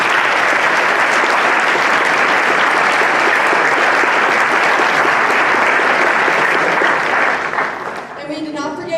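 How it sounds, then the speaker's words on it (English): Sustained, loud applause from a school assembly audience at Germantown Academy's political election event, a dense roar of clapping that fades near the end as speech begins. "so you can clap for them too"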